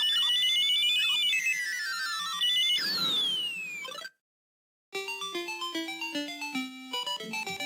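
Bright beeping chiptune effects from Bomb Jack on the Sega SG-1000: sweeping pitch glides and chirps, then a brief silence, followed by a rapid descending stepped jingle of square-wave tones.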